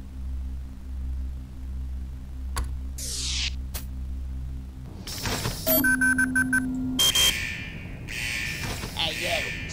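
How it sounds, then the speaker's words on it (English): An alarm goes off in a vault during the Henry Stickmin video game, with bright electronic tones and beeping pulses rising over a low game hum, accompanied by assorted game sound effects. "Looks like he set off some sort of alarm in the vault?"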